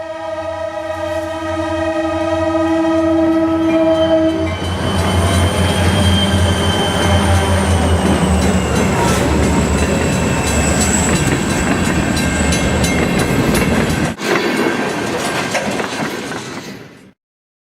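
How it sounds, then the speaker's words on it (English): A train rumbles past loud and close with sustained squealing wheel and horn-like tones, a steady roar building and shifting over the run before cutting off. "she looked up slowly to smile and greet the bright light of the oncoming"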